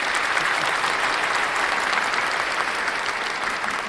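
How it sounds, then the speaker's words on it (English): A round of applause from a crowd, even and continuous clapping at moderate loudness that tapers slightly near the end. "I guess we've got to give that a round of applause as well."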